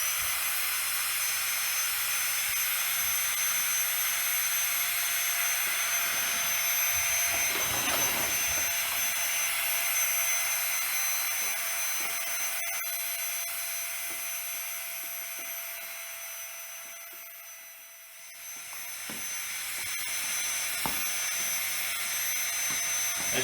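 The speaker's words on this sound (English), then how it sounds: "inflate using the pump as an alternative to the large bag" GIGA Pump 2.0 electric pump inflating a camping mattress, a steady loud motor whine with a broad airy roar that runs continuously, dips briefly near the end, then resumes.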